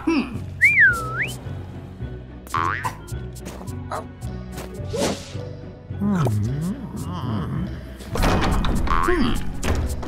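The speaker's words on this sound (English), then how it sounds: "Give Max a whistle." A rising two-note whistle calls the dog Max to help the Grinch open a locked door in The Grinch Christmas Adventures video game, sounding clearly near the start and again later over game music, thumps and a voice talking.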